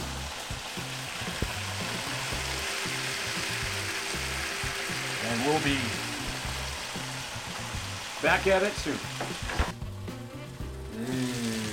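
Steady frying sizzle of chicken with olive oil, garlic and red peppers fills the clip, a constant hiss with occasional clatter and brief speech over it.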